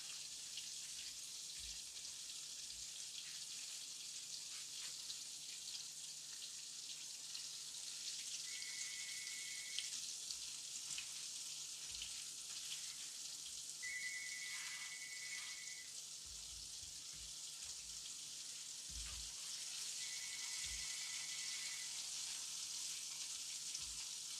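Fish frying in a single crowded pan gives a steady, soft hiss of sizzling oil, with occasional low bumps and a few brief tonal squeaks over the constant crackle.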